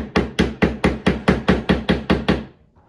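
Ten evenly spaced sharp taps of a small flathead screwdriver driven between a brass fitting and an air suspension manifold, loud and close in a steady rhythm, trailing off into quiet at the end.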